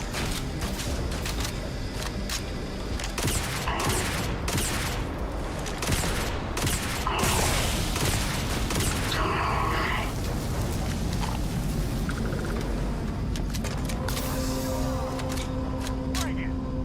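Gunfire in the sci-fi video game Starfield: repeated bursts of shots and impacts amid booms and mechanical clatter over a sustained stretch, with someone talking over the action.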